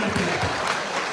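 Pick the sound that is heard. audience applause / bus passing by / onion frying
audience applause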